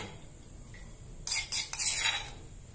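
A metal spoon scrapes and clinks against a bowl while scooping tamarind tossed with chili and salt, three or four quick close scraping strokes in a row, with no talking.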